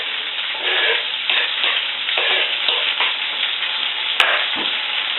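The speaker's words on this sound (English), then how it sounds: "And I'm going to get a nice stir." Carrots fry in a pot while a spoon stirs through them. A steady sizzle runs throughout, with scraping pushes and one sharp click near the end, and no voices.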